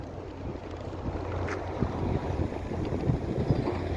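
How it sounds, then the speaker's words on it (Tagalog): Strong sandstorm wind on a desert highway between Riyadh and Haradh, a continuous roaring buffet across the microphone with low rumble underneath, no talking. "grabe yung sunstorm, ang lakas"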